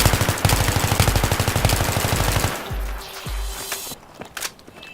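M16A3 rifle with foregrip and heavy barrel firing rapid bursts in a video game, a fast loud rattle of close shots for about two and a half seconds, then scattered fainter clicks and thuds.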